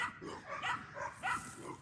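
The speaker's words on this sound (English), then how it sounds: "the kennel starts barking at Hayden, wearing a hood on her head." Dogs bark in a kennel, giving several loud, close yipping barks in an uneven rhythm over about two seconds, with no clear talking.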